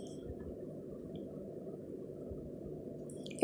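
Paneer pieces are stirred into a thick cashew curry masala, producing a soft, wet squishing and low bubbling that stays quiet and steady, ending with a brief louder clink.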